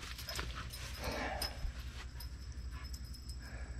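Soft dog whimpers sound beside an RV motorhome in a work area where the transmission is being removed. They are faint and broken, heard over a steady low rumble of background noise.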